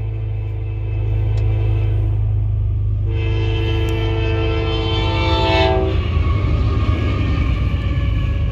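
A train rolls steadily past a road crossing with a continuous low rumble, while a loud horn blasts several layered tones from about three to six seconds, close and dominant.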